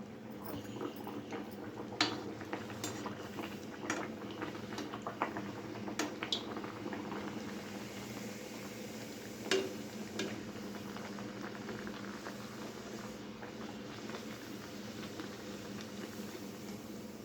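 Bedmi puri frying in hot oil, a soft continuous bubbling sizzle with occasional small pops and clinks, fairly quiet and steady.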